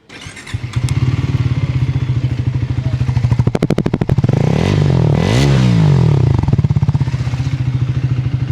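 A race-inspired Triumph 350cc motorcycle starts up and idles with a close, thumping exhaust, then revs sharply in a couple of rising blips before settling back to a loud, steady idle.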